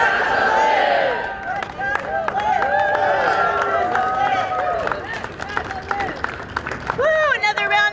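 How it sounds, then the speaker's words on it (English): Crowd at a hunger-strike press conference cheering and clapping for Nancy, with whoops and shouted voices over scattered applause throughout. "Another round of applause for Nancy!"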